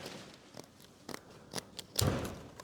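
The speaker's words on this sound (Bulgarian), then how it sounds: "Така се реже с ножица от ролката." Scissors cutting a piece from a roll of material, several separate snips spaced out, then a louder final cut, close and fairly quiet, with no talking.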